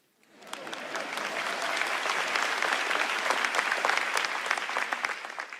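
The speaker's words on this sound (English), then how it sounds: "It's okay to clap." Applause from a large audience at the NVIDIA GTC Taipei 2026 keynote rises quickly from near silence into steady, dense clapping that holds for several seconds and then begins to thin.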